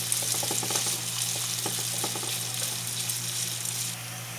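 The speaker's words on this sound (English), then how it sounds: "let's go ahead and fry the ham first" Steady sizzling of small ham cubes frying in a pan, with a few light scraping clicks and a constant low hum underneath; no voices.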